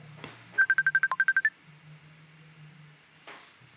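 A telephone sounds during a random phone call on a podcast, with a quick rapid series of about ten sharp electronic dial tones and a faint low hum behind.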